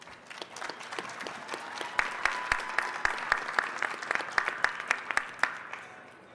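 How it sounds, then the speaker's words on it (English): An audience gives a pitch team a modest round of applause, with scattered individual claps standing out against a steady wash of clapping that fades toward the end. "Let's give them a round of applause."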